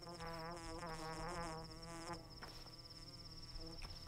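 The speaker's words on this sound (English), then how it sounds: "I can hear it. The buzzing of flies." Dense, continuous fly buzzing in the video game Pathologic 2, a steady droning whine layered with wavering insect tones and a constant high whistle, fairly close and unbroken throughout.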